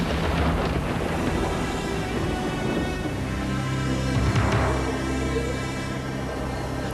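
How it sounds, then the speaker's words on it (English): A winter storm roars in from the cold north, steady rain and wind filling the scene with a dull rumble of thunder, continuous and enveloping with no voices. "a winter storm was roaring in from the cold north"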